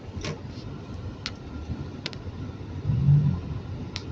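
Road traffic in Nazaret, Tumasaco, a low continuous rumble of passing vehicles with one nearer car swelling past, plus scattered light ticks and clicks.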